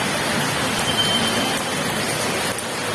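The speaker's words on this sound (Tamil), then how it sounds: "அது மழை தான் நல்லா பெய்யுது." Heavy rain pours down steadily, a dense, even hiss of falling water that fills the whole stretch without any voices.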